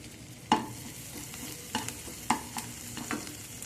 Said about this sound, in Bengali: এর সাথে দিয়ে দেব আদা কুচি। এটাকে ভালো করে একটু